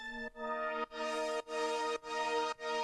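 A Juno super pad chord from FL Studio Flex plays straight without pitch movement, pulsing in about five sustained, evenly spaced hits, full and bright with nothing else over it.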